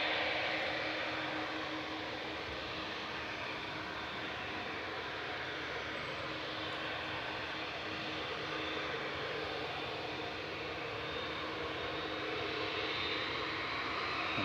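An Air Canada airliner at Manchester Airport gives a loud, steady roar of engine noise that holds for the whole stretch without easing, with no voices over it.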